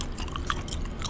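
Gum chewing close to the microphone for whispering ASMR, steady moist smacking and soft clicks throughout, with no talk.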